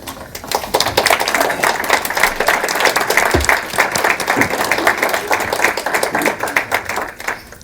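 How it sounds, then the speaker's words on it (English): An audience applauds with dense, sustained clapping that holds steady for several seconds before thinning out at the end. "please to stand for a round of applause for putting together this terrific event"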